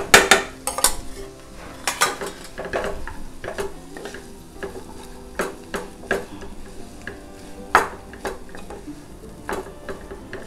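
Smashed boiled potatoes are spooned into a pan of peas and stirred, with sharp metal spoon clinks and taps against the pan over a low sizzle, close and fairly loud, without talk.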